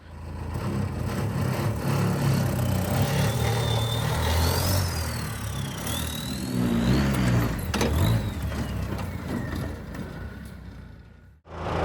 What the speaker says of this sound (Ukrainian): дизельний мотор значно шумніший, аніж був півтора-літровий бензиновий від ВАЗа